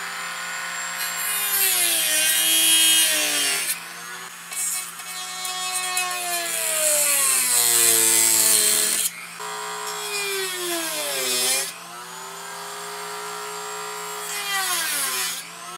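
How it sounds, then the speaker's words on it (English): A Dremel cutoff wheel cuts slots for a LAN connector in a plastic Raspberry Pi tower case, a high whining grind in several long passes with pitch dipping under load and brief pauses between cuts, close and alone. "Now, I think the Dremel might be the best tool to cut out this plastic"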